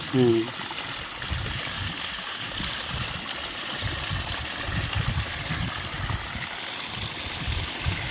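Water gushing steadily from a solar-powered pump on a hilltop plateau, its flow weakening with less sunshine, a continuous splashing trickle at moderate level with faint sounds in the background.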